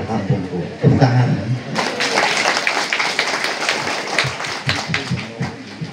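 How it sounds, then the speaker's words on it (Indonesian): An audience at the opening of a village coffee venue in Karanggintung breaks into a burst of clapping that swells and carries on, mixed with crowd chatter and voices. "Tepuk tangan."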